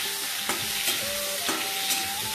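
Cauliflower fries in a pan with a loud, close, continuous sizzle, broken by regular scraping strokes of a spatula stirring it about every half second.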